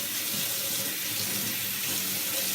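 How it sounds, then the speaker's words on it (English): Hot water gushes steadily from a tap to rinse chemical off a stretched mesh pocket, a continuous close hiss and splash into a sink with no talking. "I'm using hot water here, by the way, just to really be sure that it softens up the mesh."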